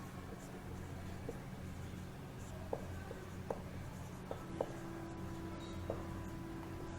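Writing on a board during a physics lesson: faint, scattered taps and short strokes spaced out over a steady low room hum, quiet and somewhat distant.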